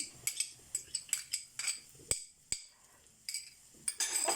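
Onions being stirred in a pan for a spicy Indian-style egg macaroni: a series of sharp metallic clinks and scrapes of a utensil against the pan, irregular and fairly close, with short quiet gaps.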